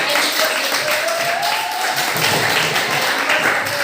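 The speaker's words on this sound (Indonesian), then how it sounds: "Beri tepuk tangan yang keras." A classroom of students claps after a group presentation, a steady mass of handclaps with some chatter and voices mixed in, fairly loud and close.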